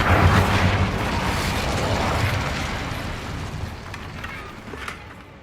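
An Incendio fire spell is cast in Hogwarts Legacy near a damaged bridge, giving a loud whooshing burst of flame that roars at first and then fades into a crackling rumble.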